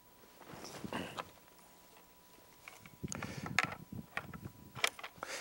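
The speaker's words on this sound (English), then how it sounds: "Insert the bolt into the rifle, cock it." Rifle bolt being inserted into the action and cocked, heard as close, quiet metallic slides, clicks and clacks spread over several seconds.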